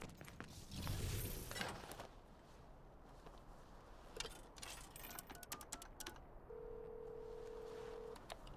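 Faint, soft keypad beeps and clicking as a phone is dialed in Devil May Cry 5, set in a busy low game ambience with scattered taps and a brief steady tone near the end; no one speaks.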